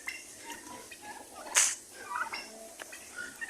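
Farm turkeys, two toms among seven hens, giving a quick bubbling gobble with scattered soft clucks and bird calls at moderate distance.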